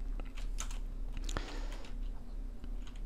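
Computer keyboard keys pressed while working in ZBrush, a few sparse, quiet clicks and taps close to the microphone over a low steady hum.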